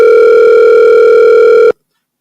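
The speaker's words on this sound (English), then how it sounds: "let's call back Gunner's Boss" A telephone line tone sounds as a call rings out, one loud, steady continuous tone that holds for under two seconds and then cuts off abruptly into silence.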